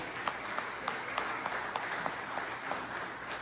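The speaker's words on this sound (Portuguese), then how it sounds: "Aplauda ao Senhor, irmão." A church congregation applauds, a steady, moderately distant patter of many hands, with a few sharper individual claps standing out at a roughly regular beat.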